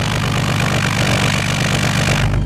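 The engine of a 1985 VK Commodore wagon idles steadily and smoothly, a close, even low rumble with no misses, alone without talk.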